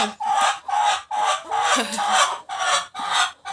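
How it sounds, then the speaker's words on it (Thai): Laying hens clucking inside a coop on a farm, a series of repeated close, loud clucks and squawks in an uneven rhythm with short gaps between them. "ไก่ไข่ของเรา เป็นข้อไข่ไก่จ้ะ"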